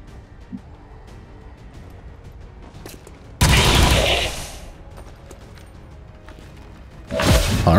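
Loud bursts of gunfire in the video game XCOM 2 War of the Chosen, a heavy volley lasting about a second then fading, followed later by a second burst, over quiet game ambience.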